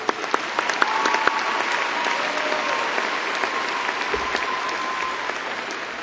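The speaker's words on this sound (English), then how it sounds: "Let's give a round of applause to all the doctoral students." Steady applause from a commencement audience at a Middle Tennessee State University spring ceremony, honoring doctoral graduates; dense, sustained clapping fills the hall evenly for several seconds, with a faint voice over the amplified room.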